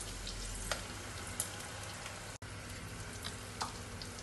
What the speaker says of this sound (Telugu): ఈ పెసరపప్పు కూడా ఫ్రై అయిన తర్వాత ఇందులో వాటర్ వేద్దాం మనం.